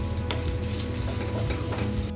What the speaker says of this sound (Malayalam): ചെറിയ പീസ് ഇഞ്ചി അതും കൂടെ ചേർത്തിട്ട് വറുത്തെടുക്കാം